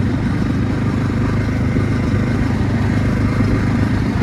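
A motorcycle engine drones steadily and loudly throughout, with a continuous rumbling roar like riding along a road; the bike is in poor condition.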